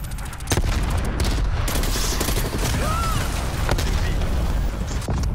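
Rapid, loud gunfire from Black Ops Cold War, with dense bursts of shots and impacts layered over a continuous battle din.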